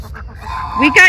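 A goose gives a few close, loud honks, building from a soft call to a harsh nasal blast at the end.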